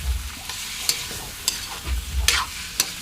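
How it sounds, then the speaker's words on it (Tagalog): Squid sautés in a pan with garlic and onion, giving a steady close sizzle broken by sharp scraping clicks of a utensil stirring the pan. "Gigisa ni siya og aho sibuyas."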